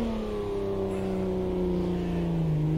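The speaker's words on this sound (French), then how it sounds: "Donc je débraye, je mets la première, j'accélère, lâche l'embrayage." A BMW M1 pulling away in first gear, its engine note climbing steadily in pitch as it accelerates hard, loud and close for the full stretch.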